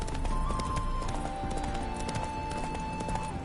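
Horse hooves clip-clopping in The Witcher 3, a steady, rapid rhythm of close hoofbeats under continuous game music, with a faint whinny-like tone behind.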